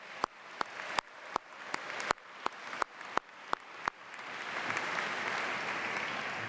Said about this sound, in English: let's begin by giving a second round of applause, not just for your mothers, but for all of the parents and grandparents, family and friends